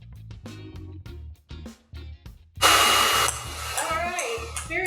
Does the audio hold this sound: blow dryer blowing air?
yes